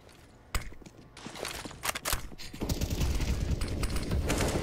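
Automatic rifle spray in a CS:GO pro match, a sharp crack near the half-second mark followed by a dense, sustained rattle of rapid shots and impacts building through the rest of the moment.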